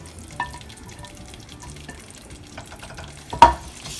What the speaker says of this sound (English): Just quickly stir it and keep roasting